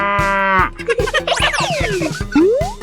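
A cartoon cow in a 3D animal slide video game gives one loud, drawn-out moo, followed by bouncy game sound effects and a rising synthetic tone.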